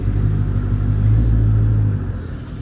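A Cadillac CTS-V's engine rumbles heard with the windows down, a low, steady, close drone that swells slightly mid-way, then eases off, with no talking.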